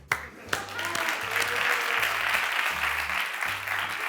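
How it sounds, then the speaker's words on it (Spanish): A Zaragoza audience applauds during a live interview event with the director of La Casa de Papel; dense, steady clapping fills the hall for about four seconds, beginning with a few sharp claps. "Muy bien, son mayoría, un aplauso."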